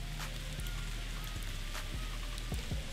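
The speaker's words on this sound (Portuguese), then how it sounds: "Pra tu curtir essa chuva linda, ó." Rain falls steadily as a dense, loud hiss, with occasional sharper drop-like taps scattered through it and no voices.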